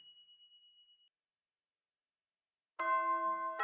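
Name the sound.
school bell chime from a visual novel game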